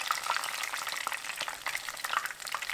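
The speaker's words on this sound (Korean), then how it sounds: "팽이버섯을 넣을 때 버섯 위쪽 부분을 기름에 먼저 넣고 흔들면 꽃처럼 벌어져서 예쁜 튀김을 만들 수 있답니다" Enoki mushrooms deep-fry in hot oil, dipped cap-first and shaken so they open out like flowers. A dense, steady crackling sizzle carries on throughout, fairly quiet and close, with no talking.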